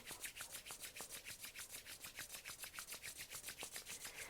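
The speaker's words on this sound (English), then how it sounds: "let's rub the palms together one more time" Palms rubbing briskly together during a restorative yin yoga session, making a steady rhythmic swishing of about seven strokes per second, close and soft, with no talking.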